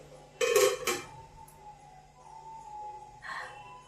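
A metal lid is set onto a pot of kheer sweetened with jaggery in a home kitchen, giving a short clatter of metal and a brief rattle. A faint clink follows a few seconds later over a steady low hum.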